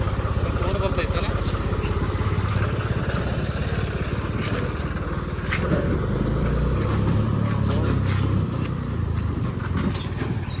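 A John Deere 5310 tractor engine runs steadily with a continuous diesel rumble and clatter, close and loud, while people talk over it.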